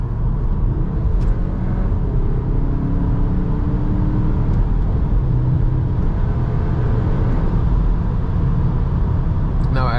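A 2021 Cupra Formentor VZ accelerating at full throttle in sport mode, heard from inside the cabin as a loud, steady engine roar and road rumble that lasts throughout.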